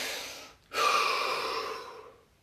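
A single deep breath drawn in sharply after a brief pause, then a long, close, airy exhale that fades out, heard alone in a quiet guided relaxation session.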